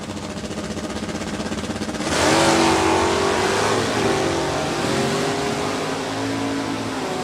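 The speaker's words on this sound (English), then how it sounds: "Doug Box quickly eats up the right side of the racetrack with that 69 Camaro" A 1969 Camaro stock-class drag car launches down the strip at a drag race, its engine jumping from a rumbling idle to a loud, sustained full-throttle roar that dominates as it pulls away, with no voices.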